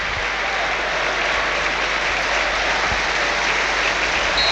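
Steady, dense stadium crowd applause at Hillsborough for a substituted player leaving the pitch during an FA Cup match between Sheffield Wednesday and Cardiff City, broad and continuous throughout without a break.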